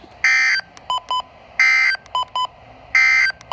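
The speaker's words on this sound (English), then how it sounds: "this has been a test of the NOAA weather radio warning alarm and EAS signal" Emergency alert tones from a NOAA weather radio EAS test: three loud, sustained electronic tone bursts, each followed by a pair of short beeps, repeating in an even cycle with no voices.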